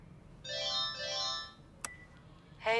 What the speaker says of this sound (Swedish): Säg något efter pipet.